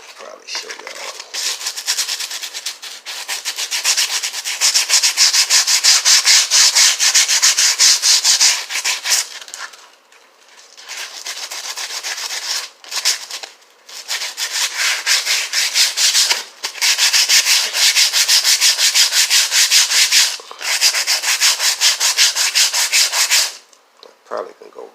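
Hand sanding a truck interior door panel with sandpaper: long, loud, steady rasping strokes that run for several seconds at a time, broken by brief pauses.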